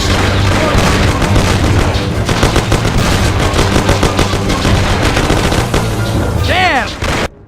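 A gunfire shootout in the Mafia: The City of Lost Heaven mission Great Deal brings loud, rapid bursts of machine-gun and pistol fire in a continuous barrage, with shouting voices mixed in and a sudden stop at the end.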